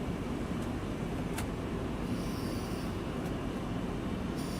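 Boeing 757 engines drone steadily in X-Plane 12, a broad even roar that holds loud and unbroken throughout, with a few short sharp clicks and a faint higher hiss partway through.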